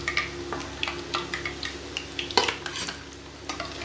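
Kara bonda made from idli batter frying in hot oil in a home kitchen, with a steady low sizzle broken by frequent short scraping and stirring ticks at close range, no talk.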